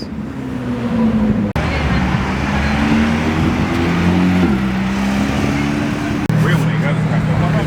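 A Porsche GT3 RS sports car drives past on a Beverly Hills street, its engine droning loudly with rising and falling tones amid street noise, while people talk over it.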